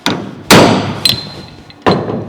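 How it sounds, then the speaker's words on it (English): Hammer blows on the roof panel of a 1970 Holden HG ute during rust repair, struck with the flat face of the hammer: four sharp metallic taps at uneven intervals, close and loud, each ringing briefly before fading. "we're hitting it flat on the flat of the hammer"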